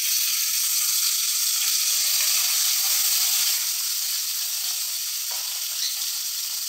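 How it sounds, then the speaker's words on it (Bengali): Two pomfret fish fry in hot oil in a pan, giving a loud, steady, close sizzle and hiss that eases slightly toward the end, with no talk. "এর মধ্যে আমি পমফ্রেট মাছ দুটো দিয়ে দিলাম।"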